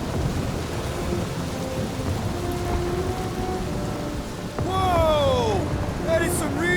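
A video-game thunderstorm with steady rain and rumbling thunder, a constant wash of rainfall with a louder burst of crashing thunder partway through, while someone talks over it excitedly.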